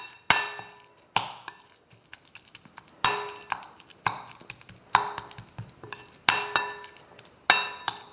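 Utensil scraping and clinking in a bowl as mashed chickpea is mixed with tomato chili sauce, sharp taps recurring roughly every second with softer stirring clicks between, close and fairly quiet, no talking.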